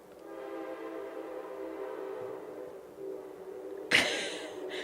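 A train horn sounds in a long, sustained blast with layered tones over rumbling rail noise, then a sharp louder burst near the end, fairly distant and unaccompanied by speech.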